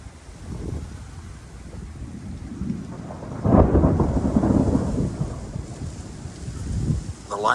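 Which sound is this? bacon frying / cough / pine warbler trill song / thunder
thunder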